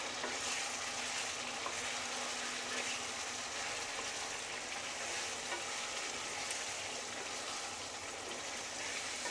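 Chicken masala gravy made with curd sizzles in a pan as garam masala is stirred in, a steady, soft frying hiss with faint scraping that continues evenly throughout.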